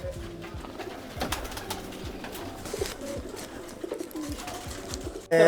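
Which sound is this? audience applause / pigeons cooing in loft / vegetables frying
pigeons cooing in loft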